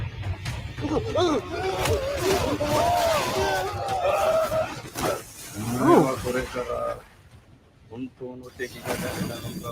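Growling, roaring creature sounds with snarls and rising cries, loud and close, mixed with crashing noises, briefly dropping quiet before resuming.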